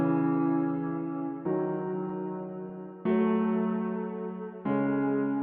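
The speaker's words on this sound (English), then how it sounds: "I'll start off with some piano chords that sound something like this." Reverb-washed piano chords for a dark orchestral beat: four sustained chords, each held about a second and a half, with soft attacks and a smooth wash between changes, no voices.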